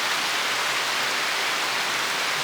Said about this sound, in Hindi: और देखिए यहाँ क्या हो रहा है, बारिश।